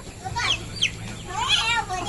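Backyard chickens clucking and a rooster calling, with several short high squawks and clucks close by over a low background hum.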